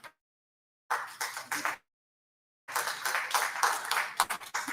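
Audience applause at a county commission meeting in Brevard County: two bursts of dense clapping, a short one and then a longer sustained round, separated by silence.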